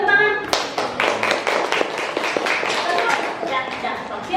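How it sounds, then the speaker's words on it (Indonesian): A classroom of students applauds, a burst of dense clapping that carries steadily for several seconds at close range after a teacher's brief word. "Oke, tepuk tangan."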